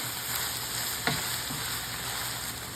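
Ground beef habanera with oregano stirred in a pan, giving a steady soft sizzle and scraping, with one sharp clack of the spoon against the pan partway through and no voices.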